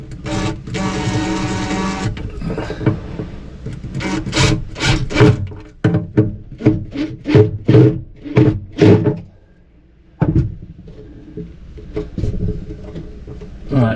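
A tiny screw is driven by hand into wood while fitting a kitchen unit in a VW Crafter van conversion, giving close, irregular creaking and rubbing bursts with brief pauses.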